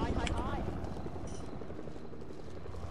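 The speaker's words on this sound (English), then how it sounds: "And there's a helicopter." A helicopter's rotor drone in Fortnite throbs steadily in the background while a voice talks briefly over it at the start.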